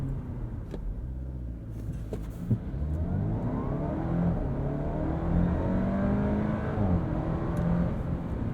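A 2020 Audi A4 45 Premium sedan with a 2.0-liter turbo engine and 7-speed gearbox accelerates from inside the cabin, engine note rising and falling through shifts with a faint pop near the middle, no talk.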